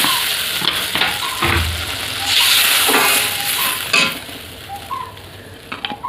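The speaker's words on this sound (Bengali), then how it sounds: "এবার আমি দেবো জল।" Water poured into hot spiced oil in a pan while cooking a tangy mango and lentil-dumpling curry, bursting into a loud hissing sizzle that rises sharply, then settles into steady bubbling frying noise.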